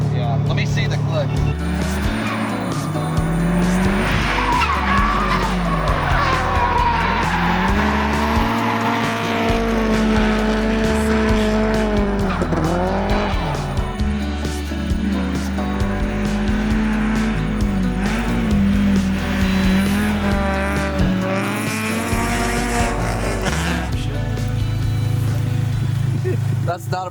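A loud race car engine roars continuously, its pitch rising and falling with the gear changes of a car being driven hard at a drivers' event at Polecat.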